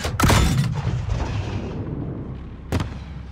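In-game explosion during a terrorist attack on an embassy: a loud boom with a rumbling tail that fades slowly, followed by a second, sharper bang near the end.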